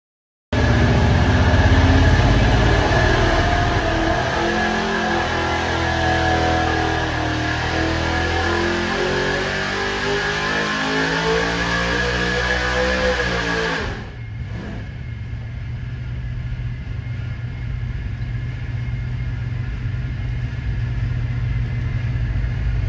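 A car engine running on methanol during a dyno pull roars loudly and climbs in pitch for about fourteen seconds, then cuts abruptly to a low, steady idle rumble.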